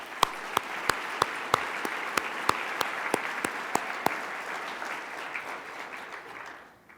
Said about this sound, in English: please give all of our supporters a round of applause